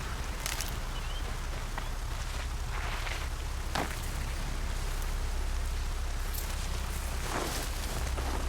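Heavy rain pours in the video game Horizon, a steady dense wash of drops with a few brief sharper splashes and thumps over the top, no voices.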